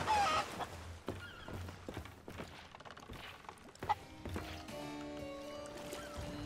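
A chicken clucks in the pirate video game Sea of Thieves, with short clucks mixed into busy game sound effects and a swelling musical tone toward the end.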